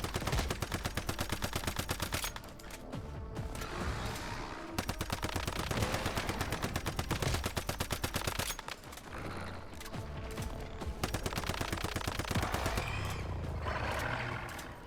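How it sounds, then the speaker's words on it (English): Automated turrets firing in the survival shooter Once Human, rapid machine-gun bursts in long rattling strings separated by brief pauses, loud and continuous across the stretch with no speech. "Hopefully those turrets can draw the fire of the small things."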